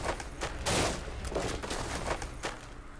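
Gunfire in the military video game ARMA 2 crackles in a rapid volley of sharp, close shots, with one heavier burst early and scattered cracks continuing to the end.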